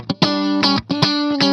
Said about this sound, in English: so there is the delay on